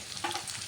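Onions for sambar sauté in a pan with a faint, brief hiss of frying and a little stirring, quiet and without voices.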